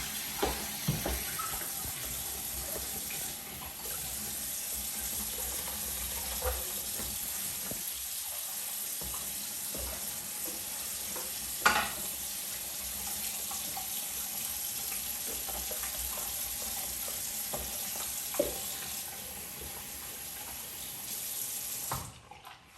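Water runs steadily from a tap into a bathroom sink while a sponge is rinsed under it. The hiss is continuous and close, with small splashes and knocks.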